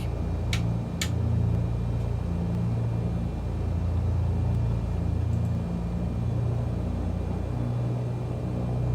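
A light airplane taxis toward runway 26 at Toronto City Billy Bishop airport, its engine giving a steady droning hum and low rumble from inside the cabin, with a couple of brief high clicks early on.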